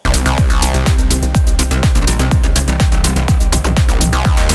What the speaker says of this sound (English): Again, that snare drum coming back in to really like drive the song forward.